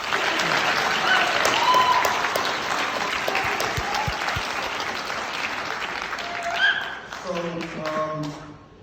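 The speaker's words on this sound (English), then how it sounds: "give Mr. What was his name? Landon? Another round of applause" An audience at a Black History Month gathering claps loudly and steadily for several seconds, with a few louder taps and voices chattering and calling out as the applause thins toward the end.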